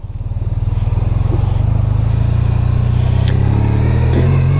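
BMW motorcycle engine, close and loud, with a steady throbbing idle that climbs into a sustained rev, the low pulsing rising in pitch over several seconds with no talk.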